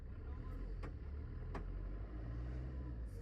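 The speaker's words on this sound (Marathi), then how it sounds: "झाली आहे गाडी चालू फायनली." A broken-down car's engine, finally restarted, runs at a low, steady idle rumble that stays faint and constant, with a couple of brief sharp clicks over it.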